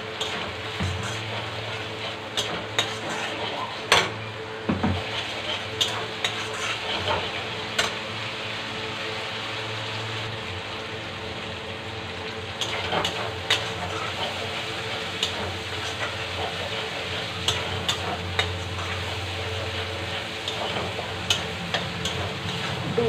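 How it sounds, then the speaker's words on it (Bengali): Tomato, ginger and green chili fry in a pan while a spoon stirs them, giving a steady close sizzle under intermittent scraping and clinks, with no talking. "দু মিনিট মতো টমেটো আদা কাঁচা লঙ্কা একটু ভেজে নিয়েছি, কষিয়ে নিয়েছি"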